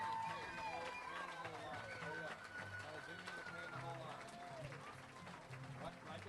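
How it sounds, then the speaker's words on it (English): Crowd applause at a high school varsity football game between Tupelo Christian Prep and Houlka, distant clapping and crowd noise beneath a prominent voice, fairly faint and steady. "let's stand and give these young ladies a large round of applause"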